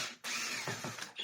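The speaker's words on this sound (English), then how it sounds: "we are going to now undo 2 more screws here" Screws are being undone on a Zanussi Multi-Cyclone vacuum cleaner: a close, dry ratcheting whir from the screwdriver, then a few short clicks and taps as the screws loosen.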